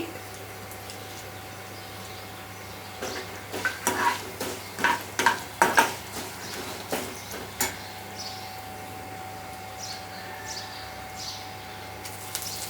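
A pan of tempering for bread patties, with urad dal and crushed coriander seeds, sizzles softly and steadily while a utensil scrapes and stirs in a quick run of strokes midway, with no talk.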